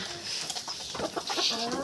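Several chickens cluck and squawk close by in a busy, overlapping flurry of short calls.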